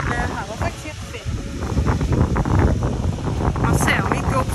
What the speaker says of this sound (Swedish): Det blåser ju så extremt mycket så jag vet inte riktigt hur mycket ni hör mig.